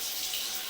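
Groundwater trickles in at a sewer pipe connection among roots. A steady, bright, hissing water flow runs without a break, close and even.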